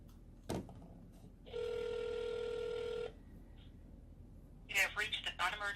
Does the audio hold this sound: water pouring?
no